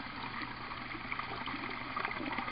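Water and air bubbles run steadily through an aquaponics U-siphon fitted with a venturi aerator, a continuous close rushing trickle with no talk.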